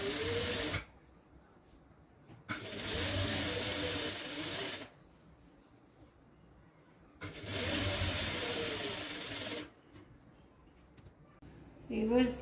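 An electric sewing machine stitches a sleeve in three separate runs of steady, close, whirring buzz lasting a couple of seconds each, with quiet room noise in the gaps.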